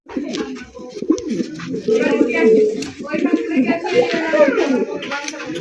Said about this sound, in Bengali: মাশাআল্লাহ, শাটিন কবুতর